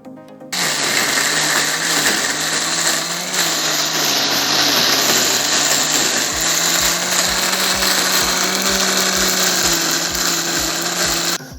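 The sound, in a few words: electric food chopper grinding chili paste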